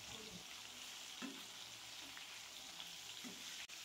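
Pieces of silver carp fry in hot oil, giving a steady, soft sizzle with occasional faint pops, close by and without talk.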